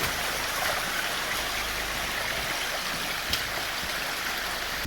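A stream flows steadily nearby inside a cave, a constant broad rushing and trickling of water with no voices, echoing slightly in the enclosed space.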